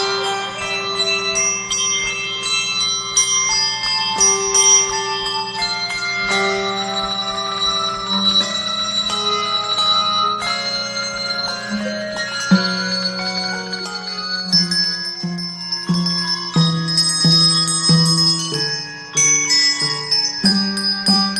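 A bell choir from El Tocuyo, in Morán municipality, Lara state, Venezuela, plays a melody: a steady stream of bright, overlapping tuned bell tones rings out clearly and continuously, with no talking.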